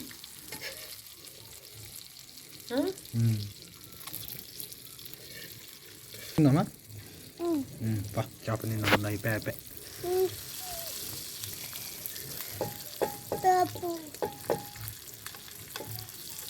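Fish frying in a pan over a low flame, with a soft sizzle broken by intermittent scraping, clinks and splashy handling noises, some of them louder bursts, and a faint voice now and then.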